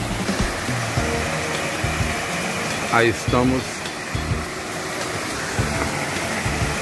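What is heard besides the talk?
waterfall roaring at a natural pool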